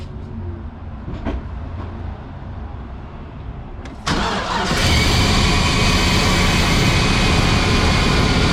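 A GMC Savana van's 6.0L engine cranks quietly with a few clicks, then catches at once and settles into a loud, steady idle nearby.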